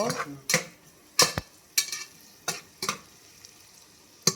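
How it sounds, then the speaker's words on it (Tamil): Green chillies sautéing in a home kitchen pan until browned, with a low sizzle broken by sharp, irregular spatula scrapes and clanks against the metal, close by and without talk. "இது நல்லா ப்ரௌன் ஆகிற வரைக்கும் வதக்கிக்கோ."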